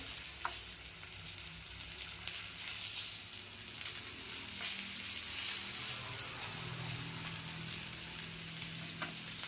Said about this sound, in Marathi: आता व्यवस्थित ना भाजून घेऊया परतून घेते आता एका साईडने